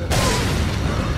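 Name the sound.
flash grenade exploding in video game Resident Evil 4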